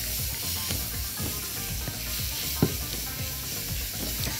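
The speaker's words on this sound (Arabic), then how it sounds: "وهدي البصل شوية سوى الأول قبل ما ننزل عليه التوم" Chopped onions sauté in a hot pan, a steady close sizzle and crackle with occasional stirring scrapes, no voices.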